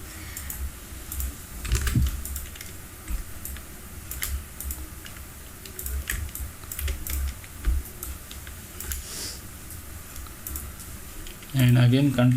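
Computer keyboard typing and shortcut key presses on a desktop, a steady patter of soft clicks under a faint background hum, with a louder burst near the end.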